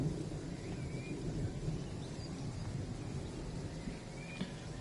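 Thunderstorm in the train-driving game Train Sim World 5: a steady, dense rumble of storm noise and rain fills the whole stretch, with no sharp thunderclap standing out.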